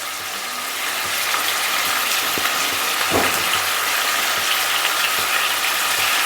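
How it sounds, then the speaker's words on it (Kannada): Ingredients frying in oil with coriander leaves nearby, a steady broadband sizzle and hiss filling the whole stretch, fairly loud and close, with a couple of faint clicks and no talking. "ಫ್ರೈ ಮಾಡಿಕೊಂಡು ಎಣ್ಣೆಲೆಲ್ಲ ಫ್ರೈ ಮಾಡ್ಕೊಳ್ಳಿ"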